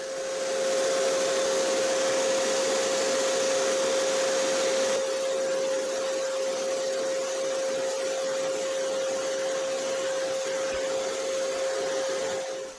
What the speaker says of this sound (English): I'm just going to use my vacuum here to get rid of most of this dust.